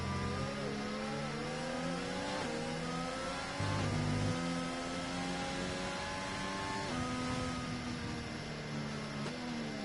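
Formula 1 cars in a racing video game at the Brazil circuit pass one after another, engines whining high and shifting gears, a continuous layered roar with pitch sweeps as each car goes by.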